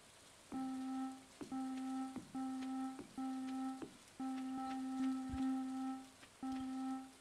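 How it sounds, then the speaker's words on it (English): Rain falls in the farming game Stardew Valley Expanded, heard as a series of pulsing looped bursts with a tonal hum and faint patter, each lasting about a second with brief gaps, fairly quiet and without talk. "Oh, it's raining here."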